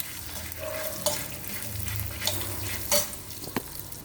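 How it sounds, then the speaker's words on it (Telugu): Dried red chillies, cumin seeds and coriander seeds fry in hot oil as a tempering, giving a steady sizzle with faint stirring clinks and a few sharp scrapes, close and unbroken, with no talk over it. "మళ్ళా ఇంకో పోపు వేపుతున్నాం"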